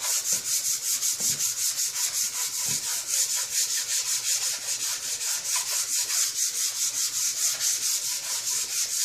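Steady, rhythmic hand sanding of a lacquered wooden drop leaf table being refinished, close and loud with back-and-forth strokes continuing throughout and no voices.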